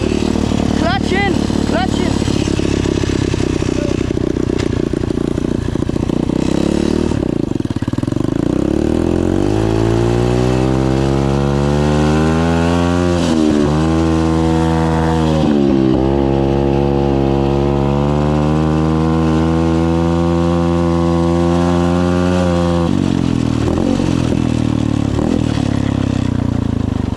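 A motocross bike with gears, ridden for the first time: its engine runs close and loud, rising and falling through repeated revs and gear changes, with people talking over it.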